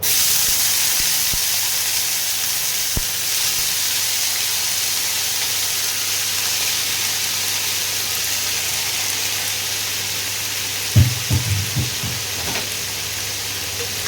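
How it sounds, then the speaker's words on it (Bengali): Bitter gourd pieces fry in hot oil with an even, continuous hiss. A short cluster of soft clatters comes near the end, and no one speaks. "একটু লাল লাল করে উচ্ছেগুলোকে ভেজে নিই।"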